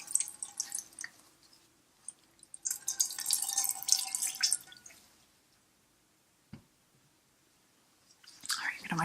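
Water drips and splashes during an ASMR facial with gloved hands and a drying clay mask being wiped off, heard as close, soft wet bursts followed by a lone drip and a final wet rustle.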